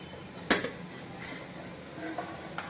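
A metal pot lid clanks sharply once on a pot of simmering Kerala-style mackerel fish curry, followed by a few softer clinks and a faint later tap in a quiet kitchen.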